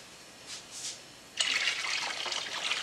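A 22-quart stockpot holding pork and chicken bones, carrot peels, celery and mushrooms for bone broth fills with water. After a quiet start, a steady, close gushing rush runs without a break, and nobody speaks.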